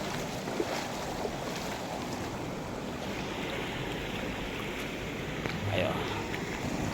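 A strong mountain river current rushes steadily, a dense, unbroken roar of moving water close by with no pauses or distinct splashes across the whole stretch.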